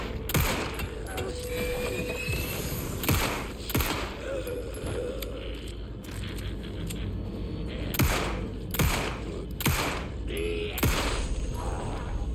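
Several sharp gunshots go off at irregular intervals in Alan Wake II, mixed with mechanical clicks and creaks over a dense, steady ambient bed, with no talking.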